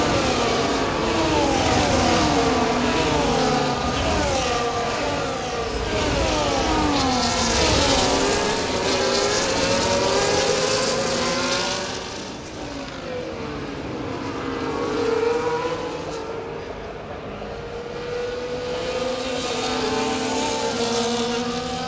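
An F1 race car in EA Sports F1 24 screams around the Monaco Grand Prix circuit, the engine pitch rising and falling through gear shifts and corners; loud and continuous, with a brief dip in volume midway.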